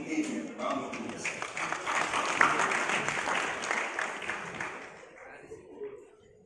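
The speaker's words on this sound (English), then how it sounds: "Round of applause." Audience applause welcoming a cocoa board chief executive to the stage at a summit, a steady wash of clapping that swells mid-way and fades out toward the end.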